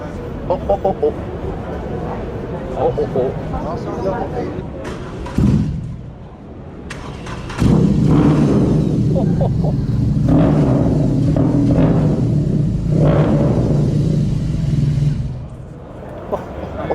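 A Suzuki TL1000 motorcycle at a two-wheeler show bursts into loud, deep engine revving after people talk nearby, roaring in sustained blasts with brief dips as crowd chatter continues.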